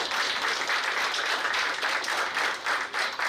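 A crowd at a company cricket tournament opening ceremony claps steadily, a continuous, even wash of applause heard from a moderate distance for a few seconds.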